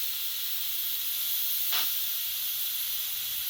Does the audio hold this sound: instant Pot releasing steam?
yes